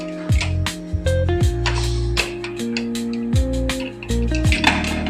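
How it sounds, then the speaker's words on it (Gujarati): A pressure cooker of rice is opened once its steam has been let out, with repeated clattering metal knocks and clinks of lid and pot close by, and a low steady tone beneath. "હવા નીકળી છે બરાબર હવે કુકર ખોલું"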